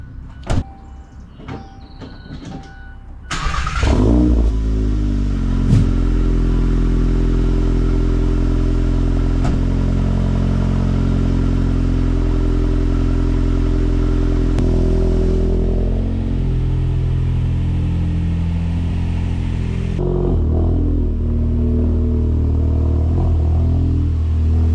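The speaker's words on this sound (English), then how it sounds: "This is from a brand called P-Storm Catback exhaust." A car engine starts after a few clicks and settles into a loud, deep rumbling idle with some rising revs and throaty exhaust drone throughout, from a Volkswagen Golf GTI fitted with a P-Storm catback exhaust.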